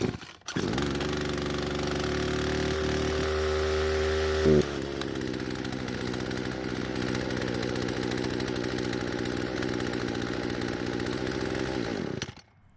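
Poulan Pro chainsaw, fuel and idle screw adjusted, idles with a steady close-up drone, shifts in tone partway through, then runs on roughly before stalling into silence near the end.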